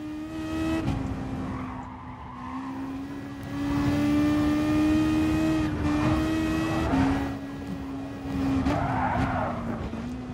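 In the GT Sport racing game on PS4, a race car spins out, its tires skidding with a sustained squeal over a steady engine drone, loud and continuous for about ten seconds.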